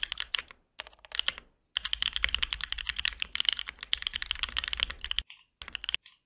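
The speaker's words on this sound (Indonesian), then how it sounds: "Gila suaranya enak banget. Ini enak banget suaranya sumpah." Clacky mechanical keyboard keys are typed up close in rapid, uneven bursts, with short silent gaps between runs and no voices over them.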